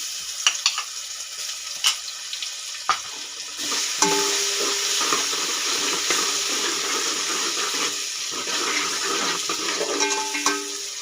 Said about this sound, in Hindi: अब इसमें मैं डालूँगी लहसुन अदरक का पेस्ट 1 चम्मच फुल।